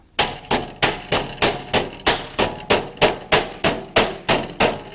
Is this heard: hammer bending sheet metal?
yes